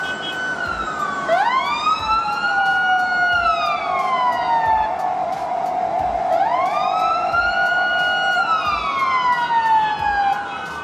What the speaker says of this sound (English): Once the siren goes off, the cars instantly move aside